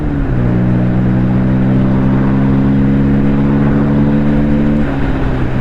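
A modified Bajaj Pulsar N160 motorcycle pulls hard through the gears, its engine drone holding a steady rising pitch, loud and close with strong wind rush, one gear shift near the start and another near the end.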